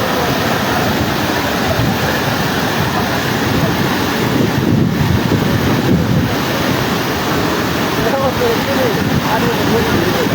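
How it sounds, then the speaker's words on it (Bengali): Floodwater rushing continuously through a broken embankment into a haor wetland beside a swollen river in Habiganj, a loud roar with wind buffeting and a faint voice near the end. "হুর হুর করে পানি ঢুকতেছে নদীও তার ভয়ঙ্কর রূপ ধারণ করেছে"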